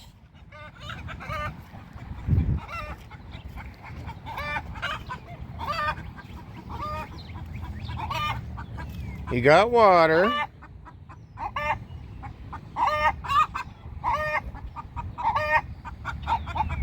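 Backyard chickens cluck and squawk in repeated bursts, with one loud rising honk-like call near the middle, over an outdoor background; someone talks briefly.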